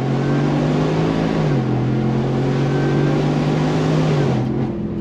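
A supercharged 2022 Roush Ford F-150 pickup accelerates hard on throttle in second gear, its engine note steady and loud with a rising pitch, heard close and alone.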